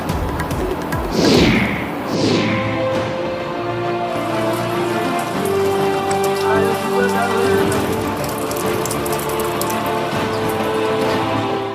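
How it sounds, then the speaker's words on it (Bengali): Steady rain falling during a wet spell in Bengal, a dense, continuous patter lasting throughout with no voices, briefly joined near the start by a couple of sharper sweeping sounds. "বুধবার থেকে উত্তর ও দক্ষিণবঙ্গের জেলাগুলিতে দফায় দফায় বৃষ্টি।"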